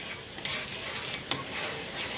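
Vinegar, shallot, dried tarragon and salt stirred together in a hot pan, with a quiet steady sizzle and a few soft spoon scrapes, brief and without voices.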